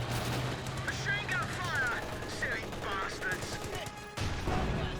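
Sustained MG34 machine gun fire from the Company of Heroes 2 battlefield rattles continuously under other battle noise, with a brief drop near the end before the clatter resumes loudly.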